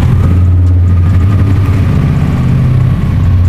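A motorcycle engine, switched on by a voice command on a modified Yamaha Lexi, runs loud and close in a steady low idle with a slight rhythmic throb throughout.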